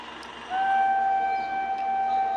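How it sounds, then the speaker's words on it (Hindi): Ranikhet Express passenger train racing through Sojat Road railway station without stopping, sounding a sustained steady horn tone that enters sharply and holds over continuous rail rumble, fairly loud and close. "हॉर्न देते देते आ रही है फुल स्पीड में।"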